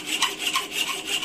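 A handsaw cuts a slot into wood as part of a hardware-making job, stopping just short of the base line; close, steady back-and-forth rasping strokes in an even rhythm, with no talking.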